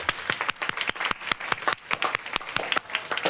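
A small audience at a school board meeting claps for a speaker, sparse distinct hand claps in an uneven rhythm, fairly close and moderately quiet, with no talking.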